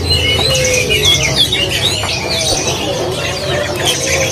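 Busy chatter of caged songbirds at a bird market, repeated chirps and tweets close by over a steady low hum, birds calling continuously throughout.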